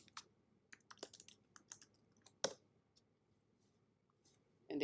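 Computer keyboard being typed on, a sparse run of soft close clicks and taps with uneven pauses, one sharper keystroke midway and a louder thump at the end, quiet room without speech.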